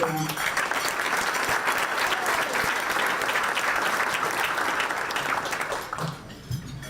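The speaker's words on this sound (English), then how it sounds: "So just another round of applause, please." An audience at a town business appreciation breakfast applauds in a full, sustained round for several seconds, tapering off with a voice briefly heard near the end.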